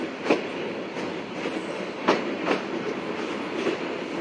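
A train at Rangpur railway station rolls past with rhythmic clickety-clack wheel knocks, a few sharp clacks spaced over a steady rumbling wash, fairly close and loud.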